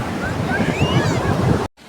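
Sea waves at Gopalpur beach in Odisha wash in as a continuous roar with some wind noise, fairly loud and close, before cutting off abruptly.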